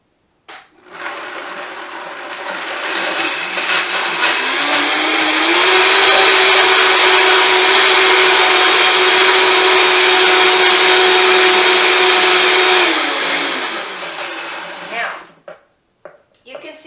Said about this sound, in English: I am going to turn the blender on.